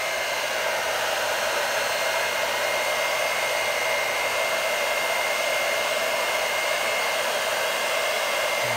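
A small blow dryer runs steadily and loudly the whole time, a constant close-up roar of rushing air with no pauses.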